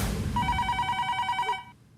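A telephone bell rings in one rapid trilling burst, fairly loud and close, then stops.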